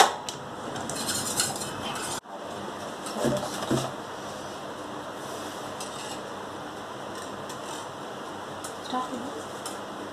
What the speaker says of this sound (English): So I am transferring the custard in another vessel.